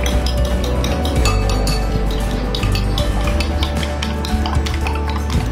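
Eggs for a batter with all-purpose flour are beaten in a bowl, giving a dense, continuous clinking and scraping of a whisk against the bowl, loud and close with a steady churning rhythm.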